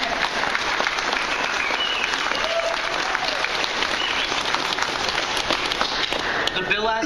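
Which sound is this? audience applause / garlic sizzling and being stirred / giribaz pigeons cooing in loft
audience applause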